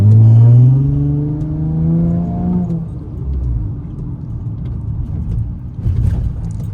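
A Honda Accord engine rises in pitch as it revs and accelerates on a rainy drive, loud and close, then settles into a steady rumble with road and rain noise and a brief burble near the end.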